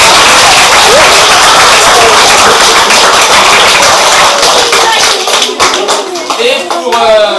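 Close, loud clapping from an audience applauding a group of children after a martial-arts-style demonstration, a dense burst that thins toward individual claps near the end, with some voices mixed in.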